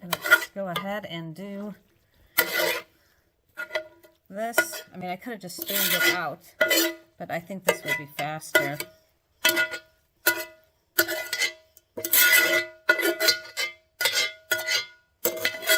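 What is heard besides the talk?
utensil scraping inside a pot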